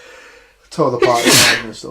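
A person lets out a single sharp sneeze, a quick intake followed by a loud, breathy burst up close, coming right after a few words of speech.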